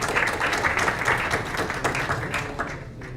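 An audience applauds a presenter at a talk on mummies found in Peru, steady dense clapping throughout that eases slightly toward the end.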